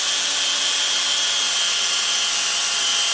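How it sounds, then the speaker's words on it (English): A brad point bit drills a small hole into a wooden duck: a steady, continuous high whirring hiss of the drill cutting wood, close and even throughout with no talk. "So I put the brad point on the duck, kind of aim towards the center, and just drill a little hole."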